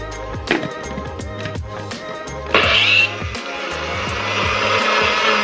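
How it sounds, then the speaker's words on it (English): A kitchen blender whirs loudly, blending cut melon into juice. It starts after a few knocks and clatters, then spins in a sustained high whine that fades slightly into a steady, slightly rough churn. "I do love to blend it and just drink melon juice."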